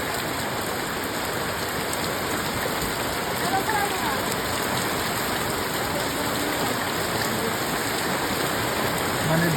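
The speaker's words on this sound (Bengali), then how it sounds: "দুদিন পরে একদম পুরো ঝেঁপে চলেছে বৃষ্টি একেবারে" Heavy rain pours down in a steady, dense hiss that stays loud and unbroken throughout, with no voices.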